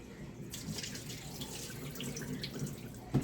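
A kitchen tap runs steadily over raw chicken being rinsed in a sink, close and continuous, a brief knock at the end.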